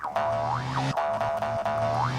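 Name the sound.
gravity coil jump boost in a video game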